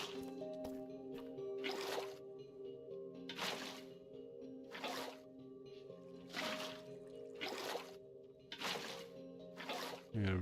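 Water sloshes in a Minecraft game world as an everlasting water source is scooped and placed, giving several evenly spaced wet splashes over a steady low background hum.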